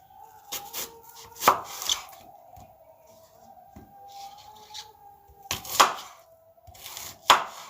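Knife slicing an organic apple on a board, with a few crisp cuts and scraping strokes spread out in two clusters, close and fairly quiet.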